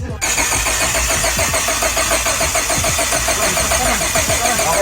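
Turbocharged Honda Civic SiR engine cranks and catches, then settles into a loud, close, slightly lumpy idle, with no talking over it.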